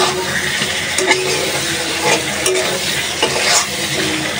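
Hilsa fish with onion and spices sautéed in a hot pan, giving a loud, continuous close sizzle with scraping strokes of stirring throughout and no voices.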